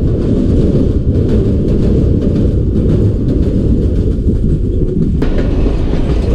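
The Jaffar Express, a passenger train, runs through the mountainous Bolan Pass. A loud, steady rumble and clatter of wheels on rails is heard from on board, continuous and close with rhythmic clicks and no talk.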